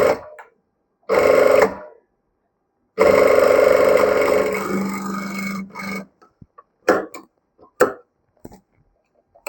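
A sewing machine stitches a deep V-neck princess-cut blouse, running in loud bursts of rapid mechanical whirring separated by silences, with the longest run lasting about three seconds, then a few short clicks and taps.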